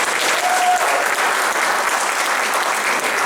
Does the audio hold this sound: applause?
yes